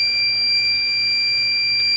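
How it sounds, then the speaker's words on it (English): A steady high-pitched electronic warning tone from a solar power inverter sounds continuously and loudly, with no talking, signalling overvoltage protection after the charge controller reached 16 volts. "the inverter is throwing the beeping sound, letting us know that there's an over voltage protection"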